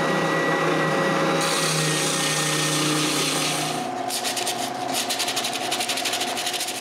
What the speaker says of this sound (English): I take care of that and make the final sanding.